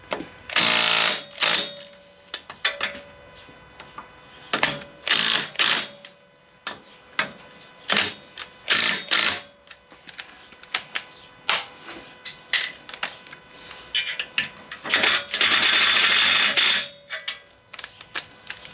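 Impact wrench tightening motorcycle fork bolts in a cross pattern on a Sportster and Softail, loud close bursts of rattling hammering repeated many times with short pauses between, one longer burst near the end.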